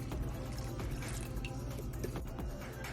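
Water poured from a tomato sauce can into a pot of homemade meatballs, a close, continuous liquid splash and gurgle with a low rumble underneath for a few seconds.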